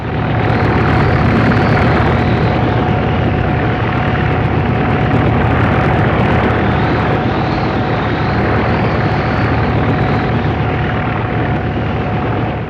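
A helicopter flies over farmland on a livestock rescue mission, making a loud, steady, continuous rotor and engine drone with no break throughout.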